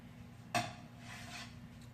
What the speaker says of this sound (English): I'm actually just shaving off the top like this